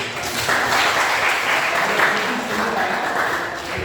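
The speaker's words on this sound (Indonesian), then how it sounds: "tepuk tangan dulu" Audience applause at a campus gathering, sustained clapping that swells and eases over a few seconds with voices faintly mixed in.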